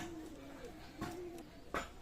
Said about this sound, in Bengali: এটা হচ্ছে ডাবলা নিউ অর্ডার কবুতর